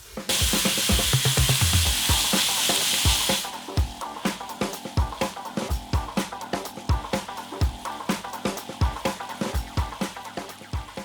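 Pork belly stir-fried in oil in a wok, opening with a loud broad sizzle for about three seconds before giving way to a steady run of rhythmic scraping and clanking strokes against the pan, close and clear with no talk.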